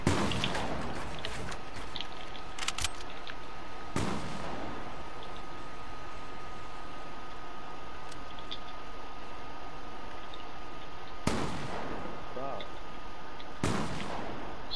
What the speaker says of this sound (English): Rifle! Oh, shotgun! Rifle! I hit you once with my AR.